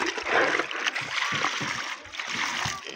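Fresh fish gathered at the shore being rinsed with poured water, giving steady close splashing and trickling throughout with brief pauses.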